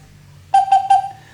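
Bird whistle mimicking a hoopoe call: three short, loud, pure whistled notes in quick even succession, heard close up over a faint low hum.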